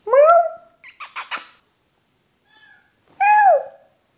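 A cat meows, one drawn-out call, then a quick series of short chirpy squeaks, a pause with a faint murmur, and another loud rising-falling meow, close and clear against silence.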